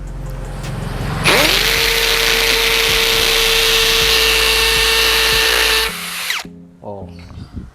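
A Tekiro XV 20V cordless drill spins up and grinds steadily into a cinder block for several seconds, then winds down and stops, with faint background sounds after.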